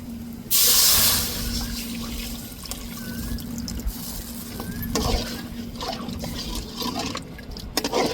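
Tamarind water pours and trickles steadily for several seconds into a pot of curry, with light clinks and splashes over a low kitchen hum.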